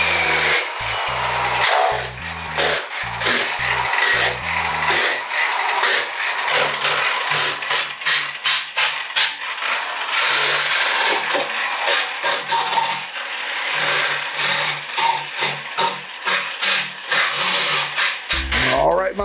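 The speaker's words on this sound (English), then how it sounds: "It's a sander grinder" A sander grinder working on ore, a loud continuous rasping, buzzing grind that pulses in uneven strokes, with a voice talking over it at the start and end.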